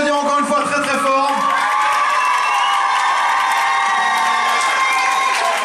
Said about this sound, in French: on peut les applaudir encore une fois très très fort